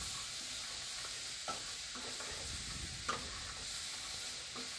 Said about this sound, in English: please fry and stir again for something like 4 minutes, so that this meat and the vegetables